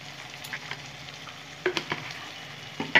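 Ground coriander, cumin and Kashmiri chilli sauté in a pan for chicken, a soft sizzle punctuated by a few sharp scraping stirs near the end, no voices.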